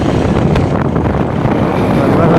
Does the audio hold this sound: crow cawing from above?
no